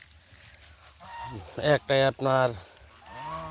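Domestic geese give a few loud, nasal honks in quick succession, close by, while a person speaks briefly.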